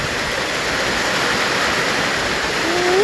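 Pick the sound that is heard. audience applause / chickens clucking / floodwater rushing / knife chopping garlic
floodwater rushing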